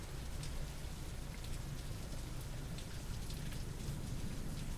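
Heavy rain overflowing the guttering outside a house, heard as a steady, dense wash of falling and splashing water that never lets up, muffled and faint as if through a wall, with no talk.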